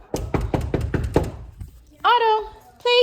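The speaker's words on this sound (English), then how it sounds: "And I'm just going to knock on the door." Five quick knocks on a door land in a firm, even rhythm up close, followed by a dog's whine or yelp after a short pause.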